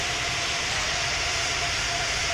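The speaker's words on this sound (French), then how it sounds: "on va mettre les gaz à fond et directement décoller de la piste. Donc on entend beaucoup les moteurs" Airplane engines at full throttle for takeoff in a Roblox flight simulator game: a loud, steady broadband roar with a sustained hum running through it, no voices.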